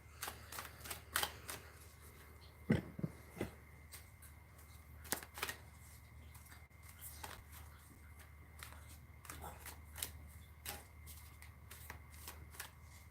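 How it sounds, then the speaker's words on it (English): Playing cards being shuffled and pulled for a tarot-style reading in a home kitchen, a string of soft riffling flicks and snaps recurring irregularly across the stretch, close and fairly quiet. "Would you like me to pull some cards for you?"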